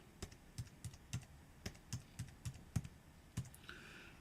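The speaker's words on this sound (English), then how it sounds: "I'm going to put in my assessor username and password." Keys on a computer keyboard click in a quick, uneven run of about a dozen taps as a username and password are typed, close and fairly quiet, with no talking.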